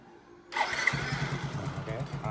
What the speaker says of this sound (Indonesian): Sekarang kita tes hidupkan.